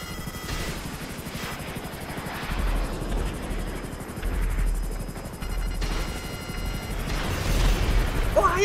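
An FH-1 Hunter helicopter in GTA V Online, its rotor chopping steadily throughout under a rumbling engine, with heavy low booms and bursts of gunfire in a dogfight against a jet.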